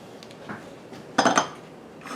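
Hot glass canning jars clink together in a short cluster of bright knocks after a couple of faint taps, close in a quiet kitchen with no talk.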